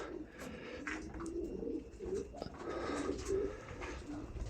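Racing pigeons from Germany and Poland coo softly in a loft, repeated low throaty calls rising and falling at a moderate distance, fairly quiet, with no talking.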